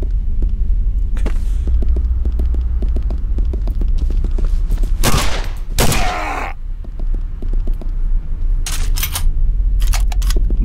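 Gunfire in the video game Condemned comes as scattered sharp reports and a couple of loud bursts over a steady low rumbling game soundtrack.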